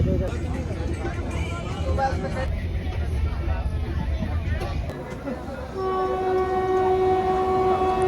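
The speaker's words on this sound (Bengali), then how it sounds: "ট্রেন ছাড়লো" The Swatantra Senani Express departs, heard from a crowded general-class coach: rumbling and clattering with crowd chatter, then a long steady horn blast near the end.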